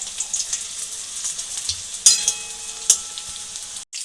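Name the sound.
chicken pakoras frying in oil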